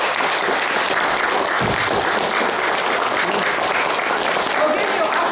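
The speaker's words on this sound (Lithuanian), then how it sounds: "pasitikime plojimais Trioletų autorių Eugenijų Šaltį." An audience at a book launch in a Tauragė art school applauds, a dense, sustained clapping that fills the room evenly for several seconds.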